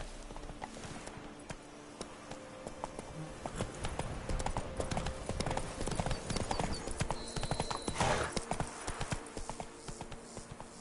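Horse hooves gallop steadily in The Witcher 3, a continuous clip-clop rhythm under game ambience and music, with a brief whinny and faint snatches of talk.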